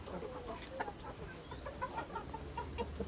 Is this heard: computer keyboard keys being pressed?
no